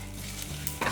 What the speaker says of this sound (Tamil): அப்பப்போ படன்னு பொறிக்க ஆரம்பிச்சிருச்சு பாருங்கள்